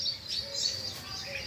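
Sparrows chirp outdoors over wet fields and yards after rain, a faint scatter of high tweets against a steady background hiss, with a low murmur underneath and no clear speech.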